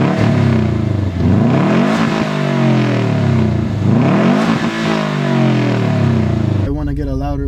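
A Subaru WRX engine revs through a mellow aftermarket exhaust, rising and falling in loud repeated sweeps up close, and the sound cuts to a different tone near the end.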